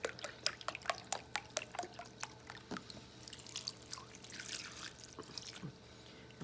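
Chicken broth poured over food in a slow cooker, heard as a string of sharp splashing drips and trickles that thin into a softer running patter, close and fairly quiet.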